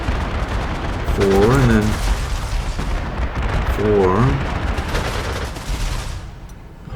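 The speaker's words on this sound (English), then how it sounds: "I should have taken 2 rounds of anti-air fire here, right?" Anti-air fire in the strategy game Panzer Corps 2, loud rumbling gunfire bursts that continue throughout, with someone speaking over them.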